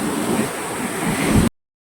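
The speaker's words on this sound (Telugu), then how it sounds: "వాటర్ ఫ్లోయింగ్ అన్ని గేట్ ద్వారా వాటర్ ఫ్లోయింగ్ ఉంది." Water pours through the open gates of Jurala dam as a loud, steady roar of rushing water, close and continuous for a second and a half before cutting off to silence.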